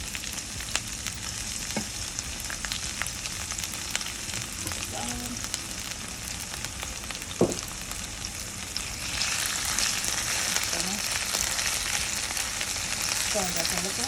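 Garlic fries in a pot for Jamaican ackee and saltfish, giving a close, steady sizzle with occasional stirring scrapes and a louder burst of crackle partway through. No one speaks.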